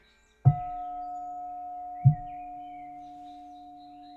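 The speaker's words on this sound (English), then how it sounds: "This is a singing bell from India." Two soft strikes on an Indian singing bell, about one and a half seconds apart, each leaving a long pure humming tone that sustains and slowly fades.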